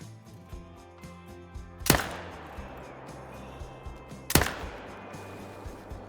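Two loud, sharp hunting rifle shots ring out about two and a half seconds apart in the Call of the Wild hunting game during an ibex hunt in open country, with soft ambient game music and nature sound beneath.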